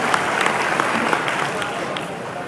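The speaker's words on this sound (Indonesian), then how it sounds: "Tepuk tangan dulu untuk kota Jambi" A crowd at a city government gathering in Jambi, Indonesia, bursts into dense, steady applause that carries on for a couple of seconds and fades slightly at the end.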